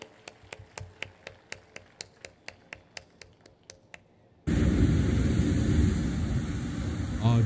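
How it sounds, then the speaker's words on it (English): Audience applause at TATWA Technologies' 22nd Foundation Day event: a loud, dense wash of clapping and crowd noise that swells in suddenly after a run of evenly spaced sharp taps. "can we have once again a big round of applause for TATWA Technologies?"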